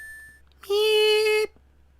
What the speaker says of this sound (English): The time is 1 a.m. Beep, beep, beep,